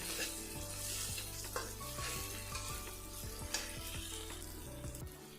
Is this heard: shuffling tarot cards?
no